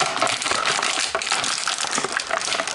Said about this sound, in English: This is the sound of something that doesn't want to come out of the plastic.